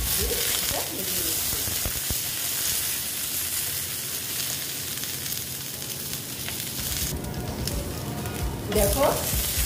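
Okra and potato sizzle while frying with turmeric in a pan, a close, continuous crackle broken by spatula scrapes and stirring clatter, with a brief faint voice near the end.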